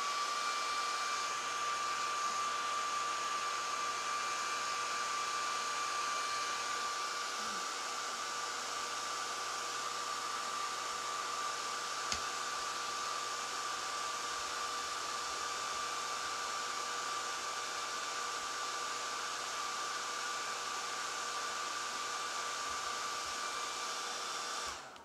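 A hair dryer blows steadily on wet watercolor paint, a continuous close whooshing hiss with a faint steady whine running unbroken for the whole stretch.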